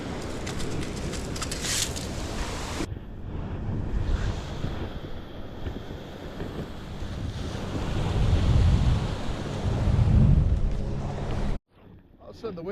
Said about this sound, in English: All of a sudden the waves got really big